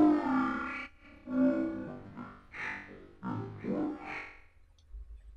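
Two layered sound design textures processed with reverb and delay form a warbling, croaking, distorted series of bursts, quiet and irregular, fading out at the end.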